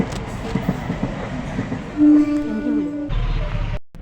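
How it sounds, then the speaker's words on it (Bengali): Train rumbling past a level crossing with a rhythmic rattle of wheels and a brief screeching whistle-like tone, heard from inside a waiting vehicle. "গাড়িতে বসে আছে, ট্রেনটা চলে যাচ্ছে।"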